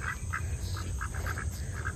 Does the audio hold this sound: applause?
no